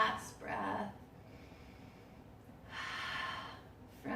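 Deep breaths during a lying yoga twist: a sharp inhale, then a long airy exhale a few seconds later, close and soft, ending with another quick intake.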